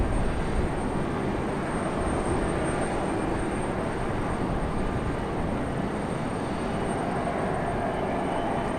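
Steady, broad jet engine rumble from an American Airlines airliner idling near the runway at Raleigh-Durham International Airport, continuous and fairly loud with no talking.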